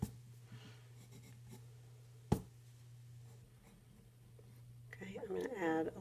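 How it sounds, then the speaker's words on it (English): A pencil drawing of a dragon is erased, giving faint, close, scratchy rubbing strokes with one sharp tap midway, and a voice begins speaking near the end. "I can go back and erase lines that I don't need."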